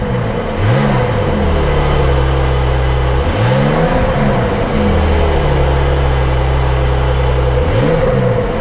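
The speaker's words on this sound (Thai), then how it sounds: "คือท่อเขาจะเงียบแต่ยกเว้นว่าเราเปิดโหมดสปอร์ต อ๋อ มันก็จะดังเพราะมันเป็นสปอร์ต" A car's exhaust roars with sport mode engaged as the engine revs up repeatedly in rising sweeps, then settles into a loud, steady drone between pulls, close by and without talk.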